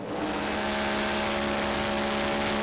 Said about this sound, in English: is it my ears, or does the engine sound just a tad off right now?